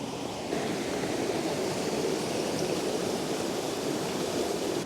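River in Glen Nevis rushing over rocks, a loud, steady broadband roar of flowing water close by, continuous and alone with no voices.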